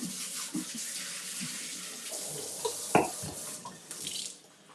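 Tap water runs into a kitchen sink while food is rinsed off, a steady quiet hiss broken by small splashes and a knock partway through, fading out at the end.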